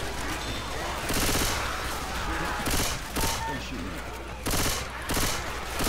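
Pistol gunfire in Left 4 Dead 2 as zombies are shot, arriving as loud repeated bursts of shots over continuous game noise, with several dense volleys across the stretch.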